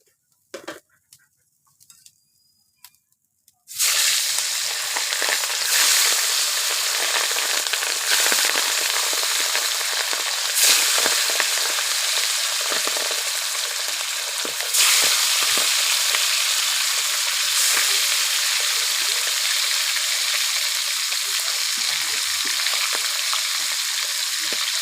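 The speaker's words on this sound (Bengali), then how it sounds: "এই দেখুন বন্ধুরা মাছ ভাজাগুলো" Tangra fish fry in a pan of hot oil. A near-silent start gives way after about four seconds to a loud, sustained crackling sizzle that runs on steadily without voices.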